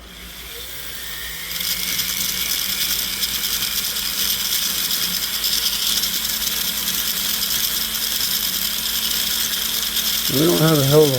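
A silicone polishing wheel spins against a surface to smooth it, producing a steady whirring grind with a mechanical buzz that swells slightly near the end.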